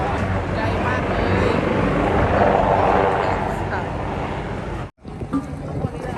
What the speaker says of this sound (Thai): เฮลิคอปเตอร์ค่ะนู่นเขาซ้อมเหมือนซ้อมกู้ภัยให้เราดูเลยค่ะ